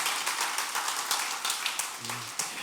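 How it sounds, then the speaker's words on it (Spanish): A church congregation claps and applauds, a steady broadband patter of many hands at moderate distance, with a brief tonal hum near the end. "Dale palmas al Rey entonces, por favor, apláudele fuerte."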